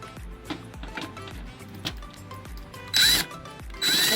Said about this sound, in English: you heard the torque thing go off, saying that it won't go any tighter